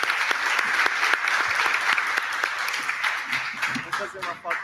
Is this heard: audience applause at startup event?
yes